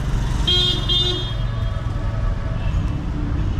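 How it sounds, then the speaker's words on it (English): A car horn honks twice in short bursts amid busy Nairobi street traffic, loud and close over a constant rumble of engines and road noise, with fainter honks further off. "you are hooting for this guy to clear the way to move"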